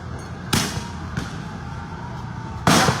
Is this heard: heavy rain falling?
no